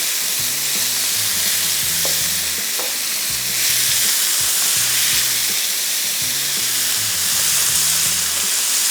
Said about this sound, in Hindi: चिकन को तेज़ आंच पे थोड़ा सा फ्राई किया